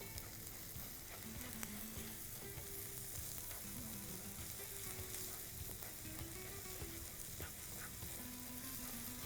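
Parotta and egg are stir-fried together in a pan, making a low, continuous sizzle with faint stirring and scraping under a quiet background hum. No one speaks.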